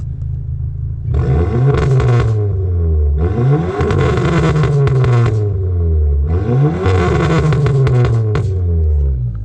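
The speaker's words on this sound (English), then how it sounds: "little rev test for you" A car engine revs three times in loud bursts, each with a harsh, raspy exhaust roar that rises and falls back to a rumbling idle.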